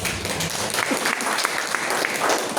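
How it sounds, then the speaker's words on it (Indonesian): A church congregation claps together during a Sunday service at Bethany Nganjuk, a loud, close, continuous round of applause with crisp hand strikes, uninterrupted by speech. "Tepuk tangan dulu dong."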